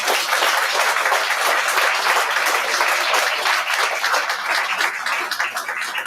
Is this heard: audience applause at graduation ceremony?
yes